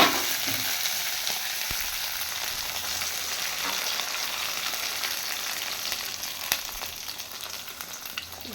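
Egg and cabbage omelette frying in hot oil in a home kitchen, a steady close, loud sizzle and crackle running throughout with occasional stirring scrapes.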